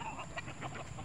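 Roosters in a backyard chicken farm give several short, close clucks in a quick irregular series.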